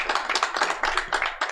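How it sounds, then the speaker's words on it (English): A brief burst of clapping from a small audience at a Liverpool MakeFest talk session: quick, close claps that fade after a second or so. "A round of applause."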